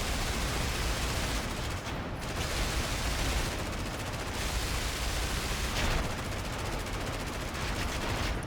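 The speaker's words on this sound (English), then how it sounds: "you can actually shoot your own vertical stabilizers as well" Machine-gun fire from an aircraft gunner's position in a flight combat video game, a continuous dense roar of rapid shots blending into engine noise throughout, loud and close with no speech.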